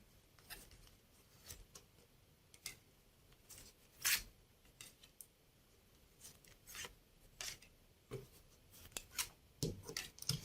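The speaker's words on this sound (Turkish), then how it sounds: "Ve şöyle şu destenizi de yayıyorum." A tarot card deck is fanned out across a surface, making faint, soft sliding and rubbing sounds with occasional light taps, scattered sparsely and heard up close in an otherwise quiet setting.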